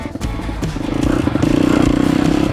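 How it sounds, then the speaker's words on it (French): A YCF 190 pit bike ridden on a cold engine, its single-cylinder motor putting out a loud, close, rapidly pulsing buzz that builds steadily over a few seconds, with scattered clattering knocks at the start and no voices. "Alors là je roule normalement parce que la moto est encore froide"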